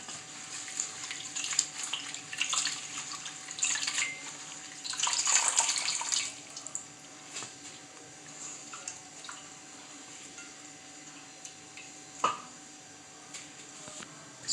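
Running water splashes as baskets are washed, a tap-like stream with louder bursts of splashing early on and sporadic clunks and drips later, close by with no speech.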